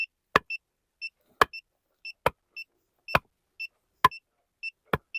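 An electronic water detector emits short repeated beeps, paired tones recurring at a steady rhythm, punctuated by sharp clicks, close and clear against silence.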